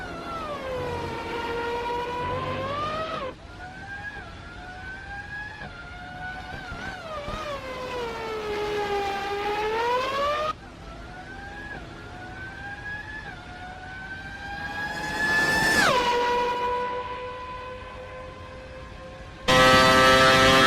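A Formula 1 racing car engine screams at close range, its pitch climbing and dropping through repeated gear changes, with sharp rises and abrupt shifts over about twenty seconds and no talking.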